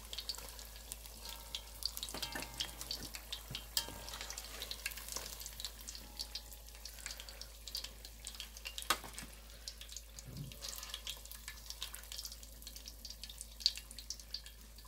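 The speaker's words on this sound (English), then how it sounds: "You don't want to fry them too hard." Crab and shrimp rangoon frying in hot oil, a quiet steady sizzle and crackle with occasional louder pops, heard alone without talking.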